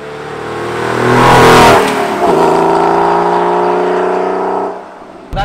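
Air-cooled Porsche 993 engine pulling steadily, loud and close, with a brief rise in revs early on before settling into an even, sustained drone after a shift into fifth gear, then easing off near the end.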